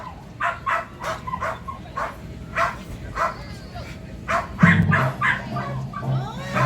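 A performing dog at a SuperDogs show during a Timmins fall fair throws out repeated barks in steady bursts. An announcer's voice and music carry on beneath the barking.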